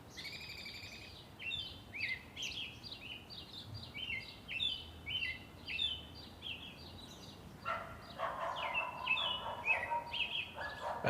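Several birds chirp and trill in quick repeated phrases, fairly close, over a faint outdoor hush.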